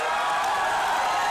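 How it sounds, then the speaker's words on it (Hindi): Studio audience applause at a Hindi comedy show, a steady wash of clapping and crowd noise held at an even level throughout, with no voices over it. "जोरदार तालियां हो जाएं।"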